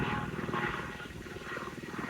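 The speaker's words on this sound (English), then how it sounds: "is a helicopter going overhead" A helicopter drones overhead at a distance, its low rotor thump pulsing steadily beneath a faint, broad whoosh.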